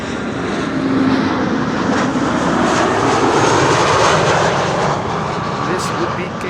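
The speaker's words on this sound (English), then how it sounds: "This would be KLM flight 978 arriving from London City, Embraer 190." A KLM Embraer 190 jet arrives at Amsterdam Schiphol from London City, its loud engine roar rising and sustained close by, with talk partly under it.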